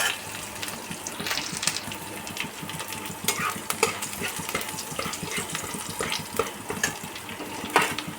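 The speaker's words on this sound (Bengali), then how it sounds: "আমি রাঁধুনির সাথে রসুন ফোড়ন দিলাম" Garlic crackling in hot oil with irregular stirring scrapes and clinks, the sizzle steady and fairly close.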